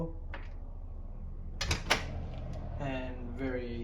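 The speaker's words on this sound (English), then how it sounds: "Lock the door" A lubricated door handle lock is turned and latched, giving a couple of close metallic clicks and a brief rattle of the mechanism, followed by faint whirring tones.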